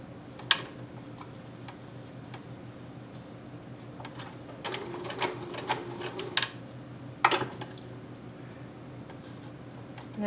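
A sewing machine stitching fabric for a doll's slouch boot, faint and intermittent, with short ticking runs of stitches separated by pauses and a few sharper clicks, heard alone.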